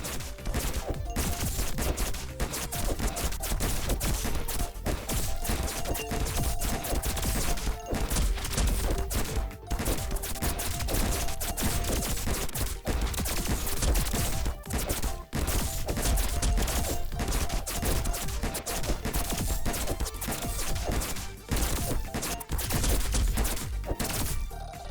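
Magnum shots fire in the action game Bronana: dense, continuous rapid gunfire and impact crashes layered over game music. The volume stays steady and loud for the whole stretch.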